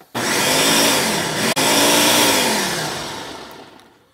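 A blender whirs loudly and steadily as it purees homemade salsa with Carolina Reaper peppers, cutting out for a split second before resuming and gradually winding down near the end.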